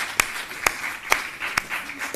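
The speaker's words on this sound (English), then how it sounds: "your presentation deserves a massive round of applause" Hands clap for a presentation in four slow, evenly spaced claps, crisp and fairly close, over a faint room hiss.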